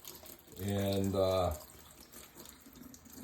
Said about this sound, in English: I'm just going to wash the dirt off.